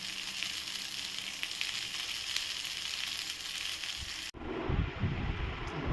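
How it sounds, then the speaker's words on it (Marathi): Eggplant slices frying in a pan in a village kitchen make a steady, close, hissing sizzle for most of the stretch, then it cuts abruptly to a quieter, low rumbling background. "सगळे वांगले ना फ्राय करून झाले हे बघा आता ते काढते प्लेटमध्ये"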